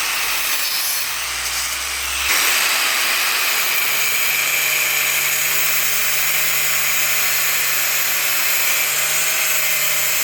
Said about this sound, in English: The Parkside Performance Angle Grinder is a reliable and versatile tool